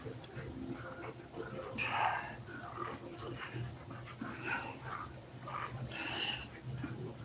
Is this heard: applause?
no